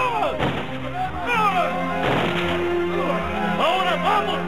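Infantry gunfire in a film battle scene, with several loud sharp shots cracking out among shouting voices and chaotic battle noise.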